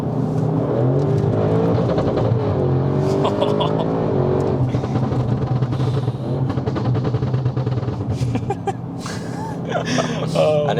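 A tuned Audi RS6 C8 with a stage 2 tune revs hard, its engine roaring and rising in pitch, then sharp pops and crackles break through as excited voices talk over it.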